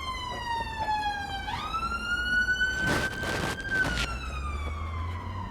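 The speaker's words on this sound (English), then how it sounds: "just wait for the ambulance to go past" An ambulance siren wails past on a street, its rising and falling tone sweeping loudly near and then easing off, with a burst of passing traffic noise in the middle and no speech.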